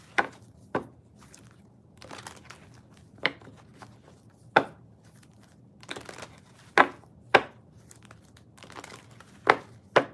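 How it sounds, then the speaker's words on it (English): A deck of playing cards being shuffled by hand, with sharp riffling bursts and soft crinkly handling in between, close and fairly quiet. "while I shuffle the cards"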